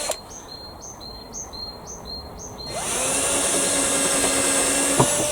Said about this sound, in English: Now the reason I'm pre-drilling